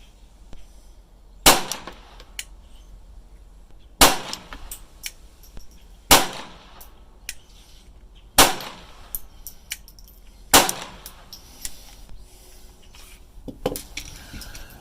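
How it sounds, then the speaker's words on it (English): Five sharp shots from a Taurus TX22 .22lr pistol fired without a compensator, evenly spaced about two seconds apart, each a crisp crack with a brief ringing tail, outdoors and close. "We're shooting it without the compensator."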